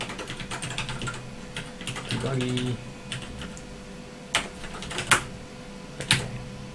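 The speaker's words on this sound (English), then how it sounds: "I hit my keyboard really hard sometimes" Hard keystrokes on a computer keyboard, a run of sharp clicks followed by several louder isolated taps, close up, with brief speech mixed in.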